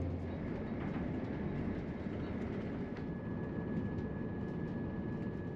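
A Class 170 diesel passenger train rumbles steadily along the track near 80 mph with a continuous low roar and faint rhythmic clatter; no voices, just the constant drone of motion.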